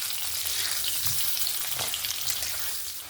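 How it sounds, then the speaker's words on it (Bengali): Potato pieces fry in hot oil in a kadai without turmeric or salt, a bright continuous sizzle and crackle close up, with faint stirring bumps underneath and no speech. "তেল গরম হয়ে গেছে, প্রথমে আলুগুলোকে ভেজে নেব।"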